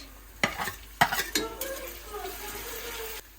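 Pumpkin, potato, onion and green chili drop into a hot pan, with several sharp clatters of pieces landing followed by a rising sizzle and some utensil scraping; no one speaks.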